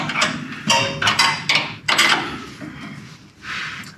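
A sway bar bolt on a Chevelle is tightened, producing a close series of metallic clicks, knocks and short scraping ratchet-like bursts, irregularly spaced with brief pauses.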